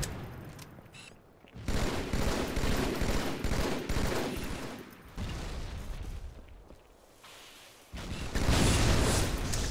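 Gunfire in Halo 2 Team Slayer on the Lockout map, dense bursts of rapid shots and booms in clusters, loud and continuous with short lulls.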